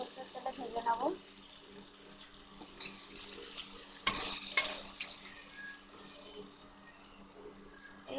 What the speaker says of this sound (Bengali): এগুলো কম আছে, সর্ষের তেলে ভেজে নেবো।